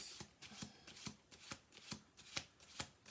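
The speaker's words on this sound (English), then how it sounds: "I'm going to do 2 more shuffle throughs" Deck of cards being shuffled in a quiet room, a steady series of soft riffling bursts repeating about every half second, close and faint.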